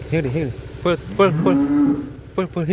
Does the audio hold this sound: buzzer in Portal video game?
no